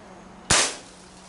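A single shot from a Crosman Classic pump air rifle with an extended barrel, a sharp close crack followed by a brief decaying ring against faint background noise.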